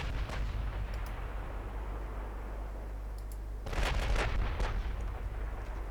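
Heavy battlecruiser guns open fire in the naval battle game Ultimate Admiral: Dreadnoughts, set in a 1955 Norwegian campaign, with a deep steady rumble followed by a loud cluster of booming salvos near the end.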